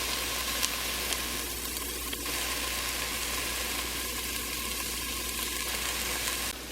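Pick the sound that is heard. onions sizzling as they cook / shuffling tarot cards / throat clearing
onions sizzling as they cook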